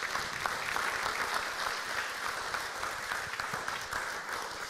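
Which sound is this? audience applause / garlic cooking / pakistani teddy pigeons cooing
audience applause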